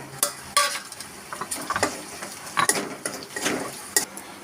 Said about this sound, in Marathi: हे मसाले सगळे तेलामध्ये घालायचे आपल्याला